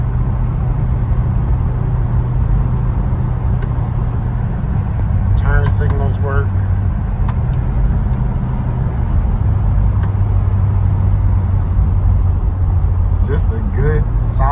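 A 1968 Chevy Chevelle Malibu cruising on a test drive, a steady low engine and road rumble inside the cabin, with a few brief squeaks and talking heard over it.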